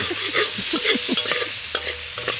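Chopped onion sautés in a pan, with repeated scraping stir strokes and a light sizzle in a steady rhythm, close and fairly loud, with no talking.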